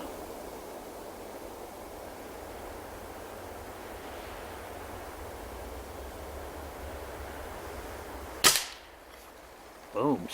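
A single sharp crack from an air rifle near the end knocks over a target, standing out against steady outdoor wind and hiss, followed by a brief softer thump about a second and a half later.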